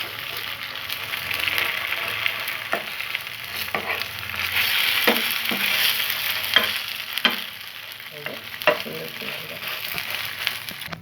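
A patisapta crepe fries in a pan with a steady, moderate sizzle while a utensil scrapes and clicks sharply at irregular moments to lift it, without any talking.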